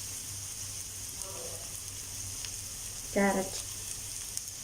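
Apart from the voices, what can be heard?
vegetables frying in hot oil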